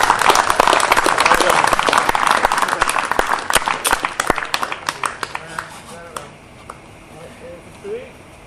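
An audience gives a big round of applause after a presenter's tree demo, dense clapping that thins into scattered claps and fades as a voice begins speaking near the end.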